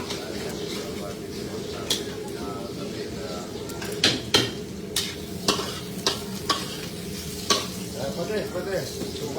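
Tilapia paksiw cooking in a pan, a continuous sizzle with repeated sharp utensil scrapes and taps as it is stirred, birds cooing in the background and a voice talking over it.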